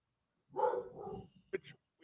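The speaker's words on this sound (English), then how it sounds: "Who the fuck's the dog barking at me?" A dog gives a couple of short, fairly close barks, a louder bark followed by a second one and a brief yip against an otherwise quiet background.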